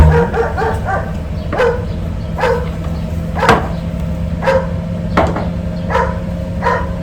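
Several sharp dog barks and yips ring out at irregular intervals against a steady low hum, moderately close, with no talking.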